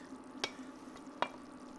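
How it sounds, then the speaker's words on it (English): Smoked meat going into a sizzling bolognese sauce gives a faint, steady frying hiss, broken by two quick clinks of a utensil against the pan. "Now onto the meat, we're gonna add our smoked meat"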